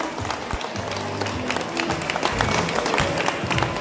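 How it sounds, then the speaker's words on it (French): Crowd applause for the race teams presented at a 24-hour endurance race event, a busy patter of clapping mixed with crowd noise and scattered low thumps. "Voilà, on peut tous les applaudir."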